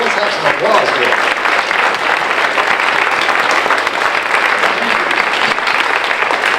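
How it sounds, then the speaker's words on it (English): Sustained, loud applause from an audience at a Scottsdale city council candidate forum, a thick continuous wash of clapping hands that holds steady for several seconds, with faint voices mixed in. "Let's have some applause for them."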